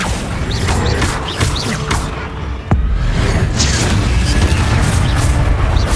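A Confringo fire spell blasts in Hogwarts Legacy: one heavy boom lands midway through a dense, constant bed of combat effects and ambience.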